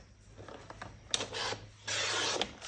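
Excess material being trimmed off a handmade cover, heard as close, faint rubbing and rasping strokes, several short ones followed by two longer scraping passes.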